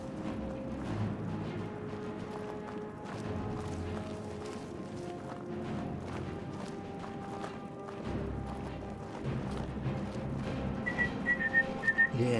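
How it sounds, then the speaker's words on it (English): A person whistles a game theme tune, from Skyrim, in a wavering melodic line over quieter background game sounds, with a few clopping footstep-like sounds mixed in. "People don't want to listen to you whistling the music"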